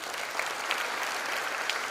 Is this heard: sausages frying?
no